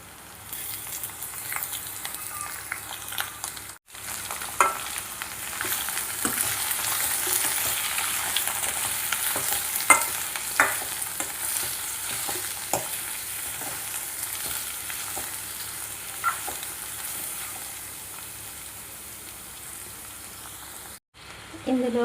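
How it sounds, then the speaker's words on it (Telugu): Chopped ivy gourd pieces fry in a hot tempering, sizzling steadily over a long stretch while a spatula stirs and scrapes now and then, close and clear. "మనం ముందుగా తరిగి పెట్టుకున్న దొండకాయ ముక్కలన్నీ ఇందులో పోపులో వేసుకోవాలి"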